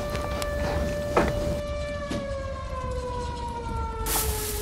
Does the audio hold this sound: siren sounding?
yes